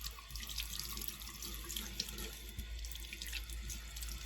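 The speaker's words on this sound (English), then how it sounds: "We've got warm water." Warm water runs steadily from a tap into a sink while a makeup blender sponge is rinsed, a continuous close splashing stream with no talk.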